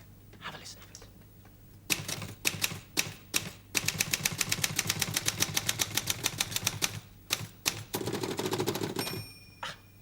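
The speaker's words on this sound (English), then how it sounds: "have a listen to the different sounds a typewriter makes" Old typewriter at work, fast clacking keystrokes in quick rhythmic runs with a few separate heavier strikes and a small bell ding near the end, close and clear, with a voice speaking briefly alongside.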